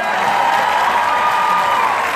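A concert crowd at a show in Ciudad del Este claps and cheers loudly and continuously, a dense steady wall of applause with whoops, no words heard.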